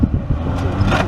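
Off-road vehicle at a Podkarpacie off-road cup event in Tarnobrzeg-Machów, its engine rumbling loud and close for a brief moment as it rolls onto the course.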